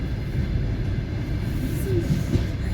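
Train 146 Dunai on the Izmail-Kyiv route, between Kazatin and Fastov, produces a steady, loud rolling rumble of wheels on track heard from inside the carriage, continuous without pauses.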